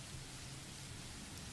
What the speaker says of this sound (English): Rain falling fast, steady sheets, creating shallow puddles of the dirt path, drenching everything the eyes can reach.